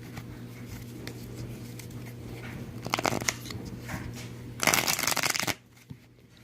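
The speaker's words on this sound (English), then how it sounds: "Alright, and now we'll shuffle." Tarot cards being shuffled by hand in short, crisp riffling bursts, close up against a quiet background hum.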